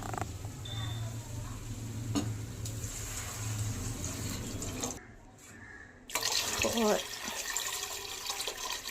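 Four glasses of water pour steadily into a pot of rice for prawn biryani, a continuous splashing rush with a short break midway, then louder pouring resumes, close up.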